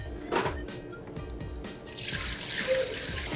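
Water and sourdough starter are poured into a bowl, making soft splashing and trickling sounds at close range with a few light knocks.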